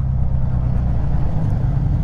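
A hot rod drives along a public road, its engine droning loud and steady with constant road and wind rumble, heard up close with no talking.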